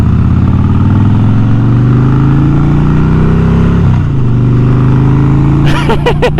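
A Harley-Davidson motorcycle engine rumbles loud and close while riding, its low steady drone rising in pitch as it accelerates, dipping briefly on a gear change and then building again, with wind noise throughout.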